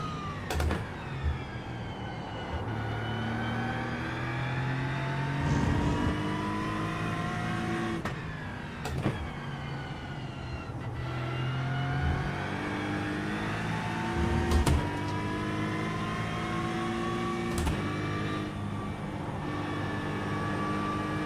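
A Ford Mustang GT3 in the iRacing sim screams through the gears, its engine note climbing steadily and then dropping sharply at each of several upshifts, loud and continuous throughout.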